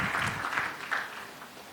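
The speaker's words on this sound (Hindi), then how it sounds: "दोनों हाथ मिलाने हैं और जोरदार तालियां बजाते रहनी है" Short burst of audience clapping at a talk show on feminism, fairly faint and tapering off within a couple of seconds.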